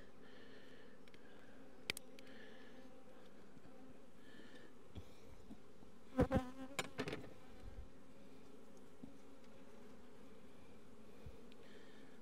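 A soft, steady hum of honey bees comes from an opened, poorly performing beehive, broken by a few brief clicks and clunks of handling near the middle; no one speaks.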